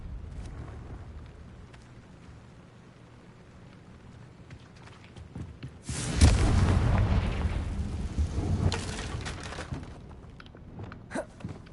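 Confringo blasting spells burst in Hogwarts Legacy, with a broad, loud explosive roar swelling in the middle and a second blast following. Quiet rumbling and scattered small impacts surround the blasts.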